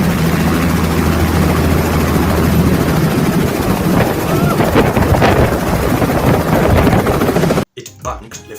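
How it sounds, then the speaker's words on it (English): EC-132 helicopter approaching a rooftop, a loud, close, steady rotor and engine roar with thumping blade chop that holds until an abrupt cutoff near the end. "an EC-132 helicopter approached the rooftop"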